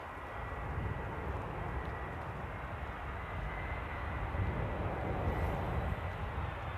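An airliner landing at Amsterdam Airport in rain makes a steady, broad engine roar at moderate distance. It swells slightly toward the end, with no voices over it.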